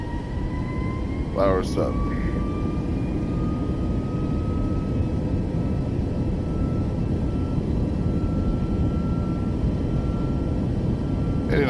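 Boeing 737 MAX 8 on its takeoff roll in Microsoft Flight Simulator 2024: a steady, loud engine roar fills the whole stretch, with a brief spoken voice near the start.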